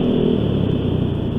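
Yamaha XMAX 335cc scooter engine held at a steady, loud rev, a continuous close buzzing drone without pauses or gear changes.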